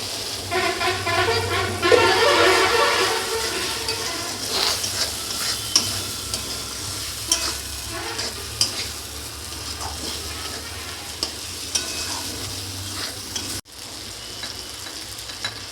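Chopped tomato fries in a pan for cauliflower korma while a spoon stirs it, giving repeated scraping strokes over a continuous sizzle, with a brief cut-out near the end.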